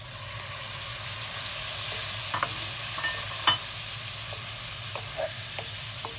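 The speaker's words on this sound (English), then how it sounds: "So we're just going to saute them together for a little bit" Peppers and tomatoes sautéing together in a pan for seafood soup give a soft, steady sizzle with a low hum underneath and occasional light ticks and stirring clicks.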